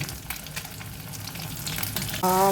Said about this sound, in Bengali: আর তারপর দিলাম ধনেপাতা, টমেটো, কাঁচা লঙ্কা, আদা আর রসুনের পেস্ট দিয়ে ওটা কষাচ্ছি